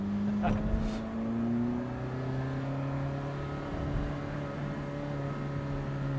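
A 2008 Ferrari F430 Spider sports car with a 6-speed manual runs with a smooth, layered tonal roar, holding steady after a brief surge near the start; it sounds close and fairly loud.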